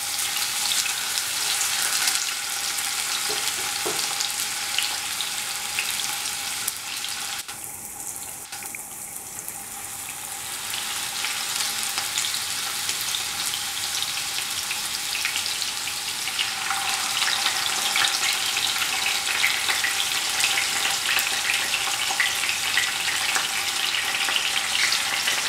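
Marinated fish pieces fry in hot oil for a fish fry biryani, giving a steady, loud broadband sizzle that runs the whole time with only a brief dip partway, alone without talk.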